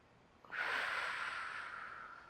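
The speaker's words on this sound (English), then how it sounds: "We'll do one more big breath in and out here." One deep, audible breath during seated yoga, starting suddenly as a strong airy rush and then fading slowly while it stays close.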